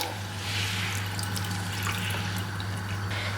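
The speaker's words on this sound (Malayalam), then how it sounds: "ഇതുപോലെ കുറച്ച് തണുത്ത വെള്ളം ഒഴിച്ച് നമുക്കൊന്നുകൂടെ ഒന്ന് കഴുകിയെടുക്കാം" Cold water poured over cooked rice ada to rinse it, a steady close splashing and trickling with faint drips, over a low hum, no talk.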